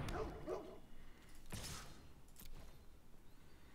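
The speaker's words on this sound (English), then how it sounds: "You like how he does a little bork?" A small dog gives a short, soft bork followed by a few yips and a brief whimper, close by and alone without talk, with light rustling around it.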